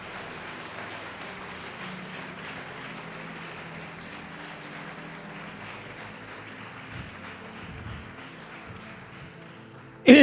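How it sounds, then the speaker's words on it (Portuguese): A church congregation claps in steady, continuous applause that resembles rain, holding at an even level for about ten seconds and ending in a sudden loud burst. "Aleluia, pode aplaudir, glorificar."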